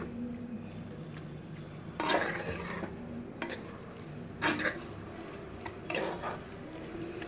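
Mutton kheema with curry leaves frying in a pan, a steady close sizzle with a few louder bursts of stirring and spatula scrapes.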